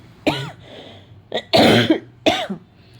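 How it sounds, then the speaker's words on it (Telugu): Three separate coughs, close and loud, spaced about a second apart, with a low steady hum underneath. "కొంచెం దగ్గు ఉందండి, బాగా దగ్గు వస్తుంది"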